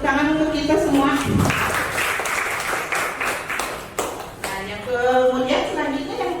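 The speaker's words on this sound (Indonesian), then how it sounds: "Tepuk tangan untuk kita semua." Applause in an Indonesian school gathering, a burst of many hands clapping that rises between stretches of a speaking voice and fades as talk resumes.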